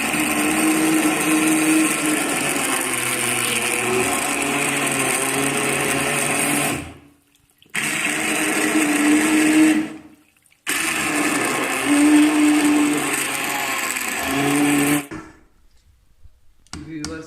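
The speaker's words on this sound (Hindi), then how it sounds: "मेरे पास ये हैंड बीटर है, मैं इससे इसको ग्राइंड कर लूँगा।" A handheld electric beater grinds cooked tomatoes into homemade puree, a loud close buzzing whir that runs in three bursts with brief stops between them and cuts off near the end.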